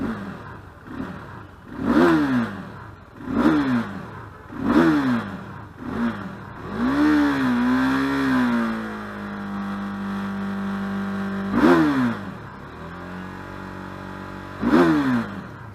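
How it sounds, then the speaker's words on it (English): A warmed-up 2017 KTM RC 390 motorcycle with ride-by-wire throttle is blipped in sharp, repeated rev bursts, then held at a longer rev before settling to a steady idle between further quick blips, loud and close. "rev her up because she's already warmed up"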